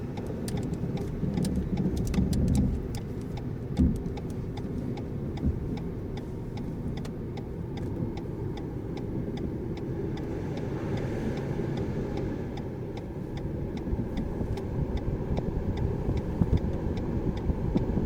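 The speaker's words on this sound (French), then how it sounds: "Mais un clignotant déjà." Turn signal indicator of a driving-school car ticking steadily inside the cabin during reverse parking practice, with a faint regular click over continuous low engine and road rumble.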